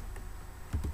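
Keystrokes on a computer keyboard while a command is entered in a terminal: a few soft clicks, with a pair of close, distinct taps near the end, fairly quiet with no talking.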